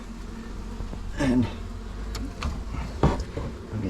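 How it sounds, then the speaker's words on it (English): Bees buzzing in a cavity behind a boarded-up chimney back, a steady low insect hum with a few louder swells, heard close and under a brief spoken word. "There's bees on the back,"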